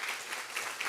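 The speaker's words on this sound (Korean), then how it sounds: "우리 다 같이 박수 한번 합시다" A church congregation at a Korean Sunday worship service clapping together, a steady, fairly quiet wash of many hands with no voices over it.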